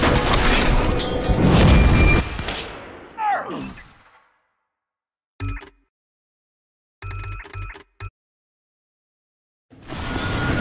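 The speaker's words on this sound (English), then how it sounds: "that bomb is gonna go any second" A bomb goes off in The Bureau: XCOM Declassified, a loud, rumbling blast that swells and then fades into a falling whine, followed by silence broken by a few short, scattered thuds.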